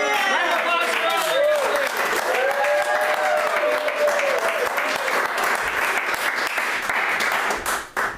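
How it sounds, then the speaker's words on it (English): Sustained audience applause at a live polka concert in San Francisco, a dense steady wash of clapping filling the room, with voices talking over it throughout and the clapping thinning out near the end. "Round of applause for us."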